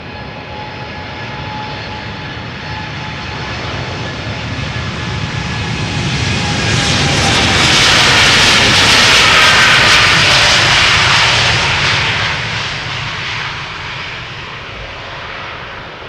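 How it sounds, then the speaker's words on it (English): Very loud and close, a nine-year-old United Airlines Boeing 787-8 Dreamliner takes off from Schiphol's Polderbaan, its jet roar building to a broad peak with high whine, then slowly fading as it climbs away. "United Airlines flight 947 to Washington, 7878 Dreamliner, 9 years old."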